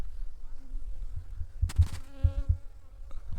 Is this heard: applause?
no